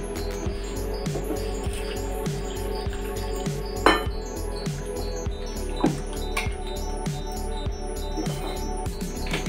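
Paper poha, thin flattened rice, being rinsed with water in a bowl, giving soft repeated drips, squelches and light splashes along with occasional clinks of the vessel, fairly close and with no talk.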